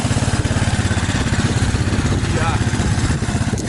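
A 1972 Honda XL250 single-cylinder four-stroke motorcycle with a freshly rebuilt carburetor runs close by, its engine thumping in a steady, rapid, even beat that stays loud throughout.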